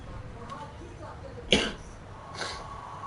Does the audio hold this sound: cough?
yes